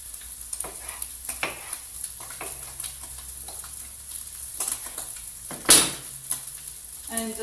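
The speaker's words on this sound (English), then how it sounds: "Bacon that's cooking off very nicely." Bacon, onions and tomatoes fry in a pan, a steady soft sizzle with scraping stir strokes throughout and one louder clatter near the end, no talking.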